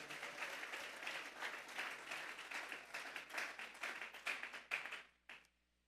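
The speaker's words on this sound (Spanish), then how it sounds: "Vamos a darle una ofrenda de palmas a Dios en esta hora." Church congregation applauding together, a full sustained clapping that grows into sharper scattered claps before quickly dying away to silence.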